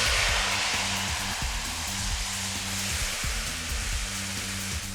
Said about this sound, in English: I'm gonna deglaze the pan with a little white wine.